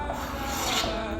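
A short stretch of hand sanding on wood, a continuous close rasping rub with no voices.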